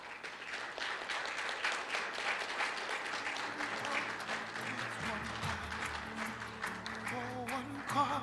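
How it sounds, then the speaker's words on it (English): Sustained audience applause fills a hall at a book presentation after a conference speech, steady and moderately distant, with voices murmuring underneath toward the end. "They clapped, sir."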